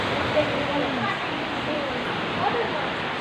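Water flows at the Sorimuthu Ayyanar temple with a steady, loud rushing wash, like a close waterfall or fast stream, continuous throughout with no clear breaks.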